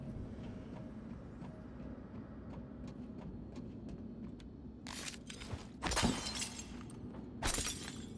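Glass breaks in the sci-fi video game Prey (2017): a low game ambience with soft ticks gives way to a few loud, bright shattering crashes near the end.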